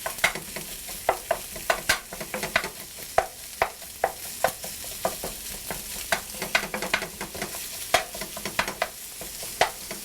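Italian sausage meat fries in a pan over medium-high heat, a soft sizzle broken by frequent scraping and stirring clicks from a utensil, close and without talk.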